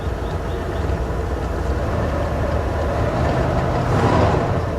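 Engine of a 1982 Ford F150 XL with 76K miles, freshly revived after sitting since 2013, idling steadily on its own with a low, continuous rumble and no voices.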